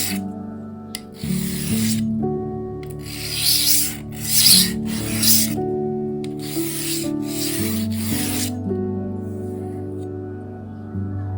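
Cheap kitchen knife sharpened on a worn 400-grit diamond plate, with a series of close, raspy scraping strokes in an uneven rhythm over a faint steady hum.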